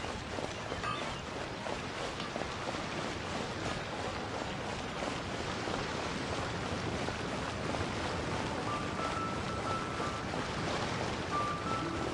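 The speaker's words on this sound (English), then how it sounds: "The hustle and bustle at the wharf is a specialty of Liyue Harbor, too" Busy wharf ambience at Liyue Harbor in Genshin Impact, with a dense, steady roar of waves and wind and a faint crowd murmur beneath it, constant and unbroken.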